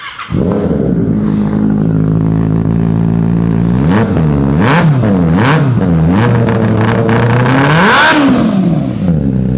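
A warmed-up 2024 Kawasaki Ninja ZX-6R engine idles loudly up close, then revs repeatedly in sharp rising and falling bursts, with a final high rev near the end.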